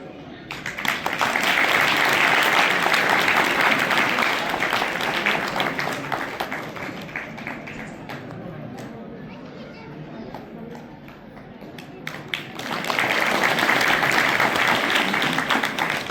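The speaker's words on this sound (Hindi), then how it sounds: "जोरदार तालियों से इनका स्वागत करें।" Loud audience applause welcoming donors at a Ravidas Jayanti gathering at Jatela Dham, swelling at the start, easing through the middle and rising again near the end, with some voices mixed in.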